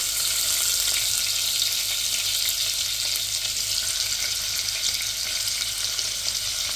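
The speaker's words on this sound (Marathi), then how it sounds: "त्याच्यात आपण लसूण टाकून घेऊ।" Garlic frying in hot oil in a pan, a loud, steady, close hiss of sizzling that holds evenly throughout.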